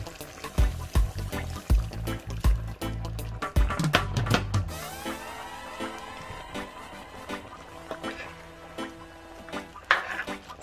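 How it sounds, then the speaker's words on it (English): Half a cup of water goes into a pot of Jamaican stew chicken, starting with several dull knocks and clunks, then a soft pour and bubbling that continue quietly underneath. "I'm going to add about 1/2 cup of water"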